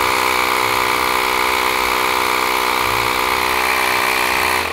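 A portable electric air pump drones steadily at close range, a constant buzzing motor hum with a slight rhythmic pulse and no voices.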